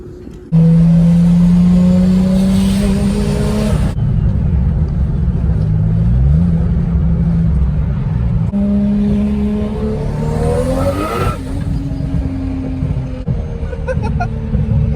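A Lexus SC300 built to about 655 horsepower roars loudly as it accelerates hard through several gears, with the engine pitch climbing and dropping at each shift.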